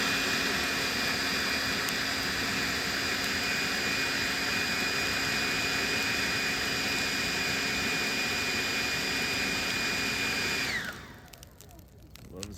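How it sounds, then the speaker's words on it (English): A leaf blower pushes air into a smouldering tree-root stump to help burn out the last chunk, giving a steady, loud, continuous whine that runs unbroken for about eleven seconds before cutting off abruptly. "This works great though, the blower."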